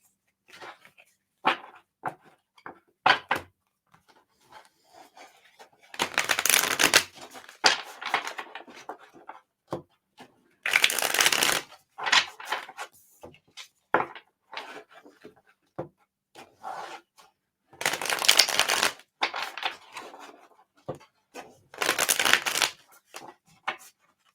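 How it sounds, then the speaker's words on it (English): Tarot cards are shuffled in several bursts of riffling and sliding, quick papery strokes separated by short pauses, close and fairly loud, with no speech. "I'm going to do a quick shuffle, guys."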